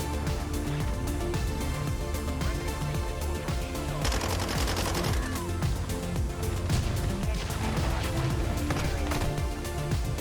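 Dense automatic gunfire from Call of Duty: Modern Warfare 2 multiplayer rattles continuously and loudly over game music and effects, with bursts overlapping throughout.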